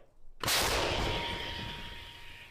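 Artillery fire on the front line in Ukraine: a single sharp blast after a quiet moment, with a long rumbling decay that fades slowly, heard from a distance and without voices.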